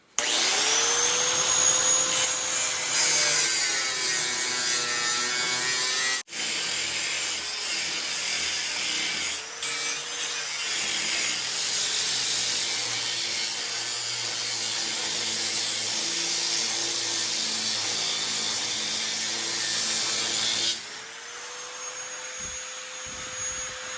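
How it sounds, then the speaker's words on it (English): A cut-off blade grinds across metal during a wood cookstove restoration. A loud, sustained whine spins up at the start, dips briefly, carries on steadily, then winds down before a final short burst. "So we're gonna just grind across here until we hit that wood and call it good."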